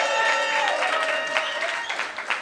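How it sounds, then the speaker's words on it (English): Audience at a live pie-versus-pumpkin debate comedy show gives a round of applause, a dense sustained wash of clapping and crowd noise with some cheering mixed in, steady and close throughout. "Give a nice round of applause for Grungy Greg, Chuck Roy, everybody you see tonight"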